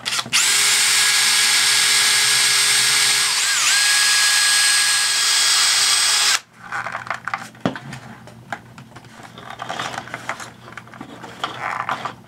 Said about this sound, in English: I guess drill them out.